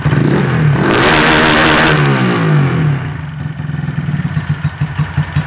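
A motorcycle engine, freshly given a valve adjustment, revs up loudly and strongly for a few seconds, then drops back to a close, rhythmic chugging idle.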